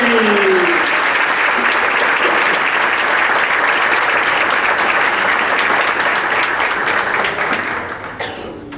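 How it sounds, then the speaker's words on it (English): A big round of applause from an audience at an educator recognition event keeps a steady, dense roar for about eight seconds before fading. A voice is heard briefly near the start. "One more huge round of applause"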